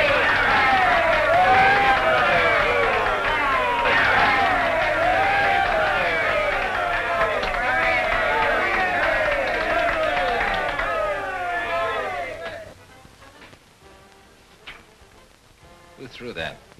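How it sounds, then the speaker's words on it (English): A crowd shouting and cheering for Larry, many voices overlapping in a loud, sustained roar that fades after about twelve seconds into quieter scattered sounds. "let's drown them out with a cheer for Larry"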